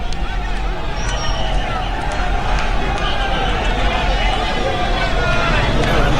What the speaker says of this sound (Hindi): तो बनारस की इस वक्त सड़कों पे आप देख सकते हैं कि कांग्रेस के समर्थक और कांग्रेस के कार्यकर्ताओं की कितनी भीड़ है।